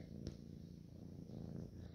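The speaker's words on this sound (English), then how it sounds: "Purr." A cat purrs close by in a low, continuous rumble that stays soft and steady, with no talking over it.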